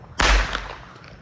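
A single loud firework blast bursts nearby, a sharp crack followed by a rumbling tail that slowly fades.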